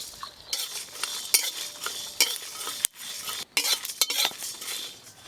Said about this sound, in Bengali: গোটা গরম মশলা একসঙ্গে সবকিছু ভেজে নেব